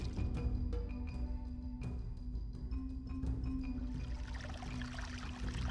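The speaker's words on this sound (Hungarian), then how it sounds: "A tiszta vízű patak a festői szurdokvölgyben zubogók és kisebb vízesések között folyik" A clear stream in a volcanic-rock gorge of the Visegrád Mountains rushes over rapids and small falls, a close, continuous splashing and pouring with sharp trickling bursts early on before settling into a steady rush.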